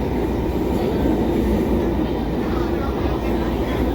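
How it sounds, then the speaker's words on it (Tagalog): Steady low rumble of a train rolling along rails in Taiwan toward Tainan, heard from inside a carriage, with a constant whooshing roar and no pauses. "nandito na kami sa loob ng tren"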